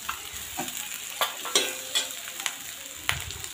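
Rice gets stirred into a masala of spices and Kashmiri chili in a frying pan. A spoon scrapes the pan in uneven strokes over a soft sizzle, with several sharp clinks standing out.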